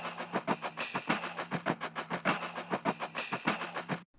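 A repitched, EQ'd percussion loop plays as a fast, even pulse of muffled, chuffing hits, steady and close, stopping abruptly at the end.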